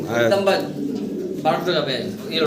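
Fancy pigeons at a seller's coo in soft, repeated throaty calls close by, with people talking over them throughout.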